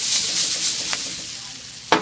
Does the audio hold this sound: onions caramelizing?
yes